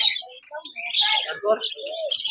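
Lovebirds in a mixed lot at the Serampore pet bird market chirp and tweet in quick overlapping bursts, close and lively, over busy market background.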